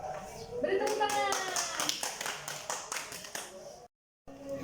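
A primary school class claps for the second group, a dense burst of many small hands clapping at close range, with a voice over the start; the clapping fades and cuts off, then resumes briefly.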